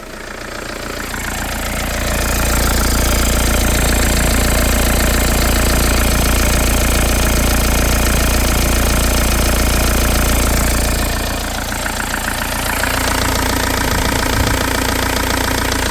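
An Audi 80 B4 with a 1.9 TDI diesel engine idles close by with a loud, steady clattering rumble that rises after a moment and holds, dipping briefly near the end, with no voices.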